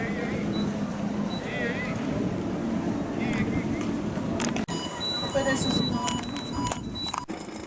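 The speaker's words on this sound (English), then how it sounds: "The engine is running." A boat engine runs with a steady low rumble under wind buffeting the microphone, being tested in Vilamoura. Voices talk over it and a few high beeping alarm tones sound.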